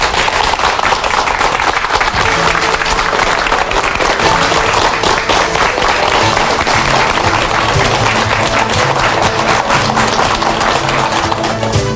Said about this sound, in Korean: 박수로 모시죠.